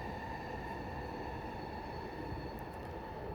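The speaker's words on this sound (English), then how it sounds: "those trains are coming now" Steady, continuous rumble of a train rolling past, broad and unbroken throughout with faint higher metallic tones above.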